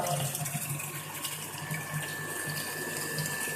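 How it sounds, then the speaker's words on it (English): Water rushes into a tank through a solenoid valve in a water-level controller setup, a steady close gush with a faint constant whine underneath. "this solenoid valve, only this solenoid valve is allowing the water in it"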